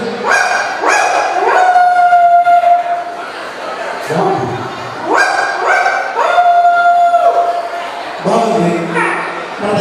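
A man imitates a dog with his voice, giving repeated howls and yipping barks in two long bursts, loud and close, with the drawn-out cries rising and falling in pitch.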